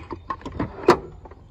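Drawers of a service truck's toolbox slide open in a quick series of short clattering metal rattles and knocks, close and fairly loud, with a sharper clunk near the end and no voices.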